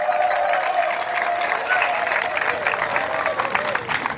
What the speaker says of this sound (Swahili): Kama ni bongo tuishangilie kwa makofi na vigelegele